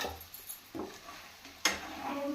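Chicken livers and gizzards frying with masala in a pan, stirred with a utensil: a few soft scrapes and knocks, one sharper clink, over a light sizzle, close and fairly quiet.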